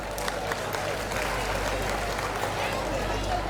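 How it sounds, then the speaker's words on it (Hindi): Sustained applause from a large audience welcoming a Garba dance group at a community event, dense steady clapping with crowd murmur throughout, loud and close. "वो सभी लोग तालियां बजाकर इनका स्वागत कर लो"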